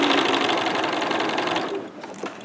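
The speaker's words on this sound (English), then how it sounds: "I start sewing on the left-hand side." Sewing machine stitching half-square triangle units at a quarter-inch seam: a loud, fast, steady mechanical whir that slows and fades toward the end, with a couple of faint handling sounds after.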